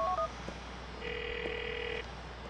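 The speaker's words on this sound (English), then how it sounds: "I'm not picking up my phone" A mobile phone rings inside GTA IV: a steady electronic ring tone holding for about a second at moderate level, with brief beeping tones before it and a quiet game background underneath.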